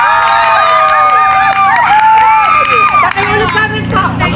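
A group of campers shouts together in a loud, excited burst of overlapping voices that rises and falls through the moment, with cries and calls layered over one another.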